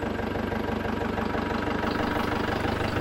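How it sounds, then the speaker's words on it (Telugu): A jeep engine idles steadily in a forest, a continuous loud low rumble with a faint knocking pulse running throughout, and no voices. "ఈ జీప్ చప్పుడు దూరంలో తప్పిస్తే"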